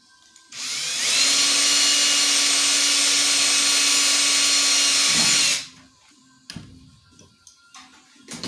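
A power drill spins up and runs at a steady high whine for several seconds, drilling for a nut plate install with Cleco fasteners, then stops, followed by light clicks and handling sounds.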